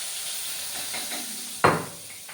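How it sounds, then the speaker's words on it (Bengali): Radhuni seeds, two bay leaves and a dry red chili dropped into hot oil give a sudden loud sizzling burst over a steady background hiss, with no talking. "এই রাঁধুনি ফোড়ন দেবো কেমন, এর সাথে দুটো তেজপাতা একটা শুকনো লঙ্কা ফোড়ন দেবো"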